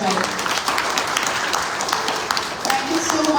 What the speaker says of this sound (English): Can we hear one round of applause for the proud parents as well?